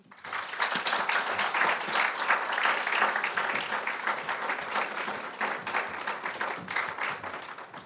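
Audience applause welcoming a speaker to an artist talk: many hands clapping steadily and fairly loud for several seconds, swelling quickly then holding before slowly easing.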